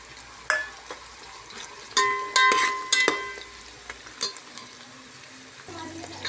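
Onion, ginger and green chilli sautéing in a pan as carrots go in for a paneer peas pulao, with soft sizzling under a few sharp spoon-on-pan knocks and scrapes near the start, then quieter frying.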